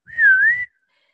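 A single short person's whistle rises and dips in one clear, loud tone lasting about half a second, alone against silence, as a call to someone.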